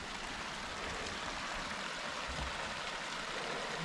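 Stream water flows at Tokopah Falls in Sequoia National Park, low late-season water making a continuous, even rushing hiss with no voices.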